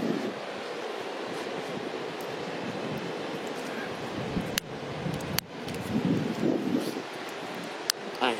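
Strong gusty wind outdoors roars across the microphone for several seconds, broken by a couple of sharp clicks, as someone tries to light a cigarette.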